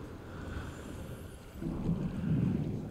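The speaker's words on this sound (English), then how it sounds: "Oh, great. A storm's coming." Low rolling thunder of an approaching storm in No Man's Sky, a continuous deep rumble with wind-like hiss that swells louder in the second half, heard alone without speech.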